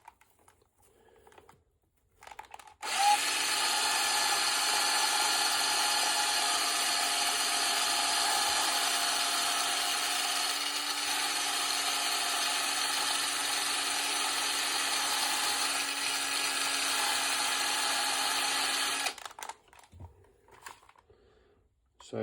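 Household Scotch-Brite pad scrubbing a carbon-caked engine valve from a 2JZ-GE head, likely driven by a power tool, giving a steady high whirring buzz that runs about sixteen seconds before stopping, close and alone.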